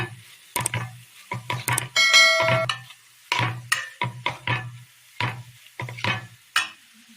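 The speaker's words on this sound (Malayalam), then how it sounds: "ഇതിലേക്ക് ഒരു സ്പൂൺ മുളക് അരച്ചത് ചേർത്ത് കൊടുക്കാം പച്ചമുളക് അരച്ചത് മിക്സ് ചെയ്തെടുക്കാം" A spoon scrapes and stirs ground green chili paste into a vegetable mezhukkupuratti in a pan, in short irregular bursts of clatter with faint frying between strokes.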